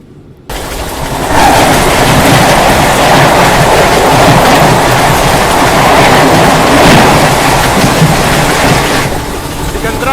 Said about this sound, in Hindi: यहाँ गई निज़ामुद्दीन जबलपुर श्रीधाम एक्सप्रेस